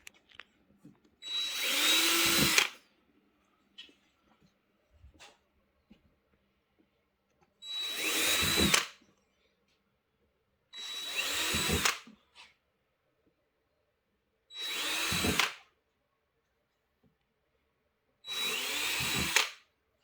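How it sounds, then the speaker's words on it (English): A power drill bores pilot holes into a car body panel on a Hellcat during an aerodynamic add-on install, heard as five separate whirring bursts of about two seconds each, with quiet gaps between them. "so our pilot holes are drilled"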